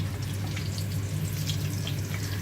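Shaped cheese chebureki fry in well-heated oil with a steady, dense sizzle and crackle that holds close and even throughout, over a low hum.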